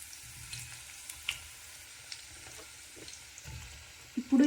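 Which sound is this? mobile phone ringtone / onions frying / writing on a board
onions frying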